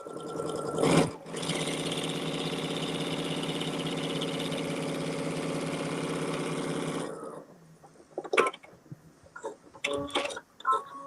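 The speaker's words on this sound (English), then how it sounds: "So we're actually sewing an X twice." Sewing machine with a quarter-inch presser foot stitching a quilt block: a steady mechanical whirring run of about six seconds, then it stops, leaving a few clicks and handling noises.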